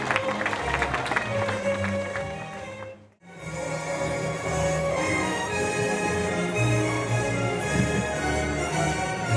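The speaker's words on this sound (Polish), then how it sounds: "No i teraz obowiązkowo ponownie czas na brawa." Applause and crowd noise at the Majka Days bike race in Krynica-Zdrój, a steady wash of clapping that drops out briefly near the middle and then resumes at full strength, with music running underneath.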